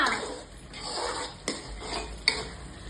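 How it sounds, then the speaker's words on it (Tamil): Turkey berry curry being stirred in a metal pot, a spoon scraping and clinking against the sides in steady strokes with a couple of sharper knocks, soft bubbling underneath, no voices. "கலந்து கலந்து சட்டம் போடணும் இல்லைன்னா அப்படியே அடி பிடிச்சிடும்"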